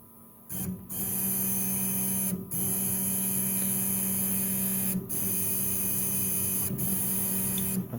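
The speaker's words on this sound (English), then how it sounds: "But I'll just show you them spinning up." Stepper motors on an upgraded AliExpress CNC machine spin up, producing a steady, loud tonal whine and hum that holds for several seconds with a few brief dips, close to the listener and without speech.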